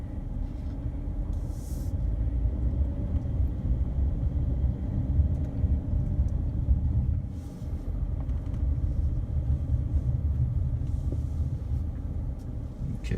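A Dodge Charger rolls slowly along a driveway at night, its engine giving a steady low rumble from inside the car with faint creaks and light bumps over the surface.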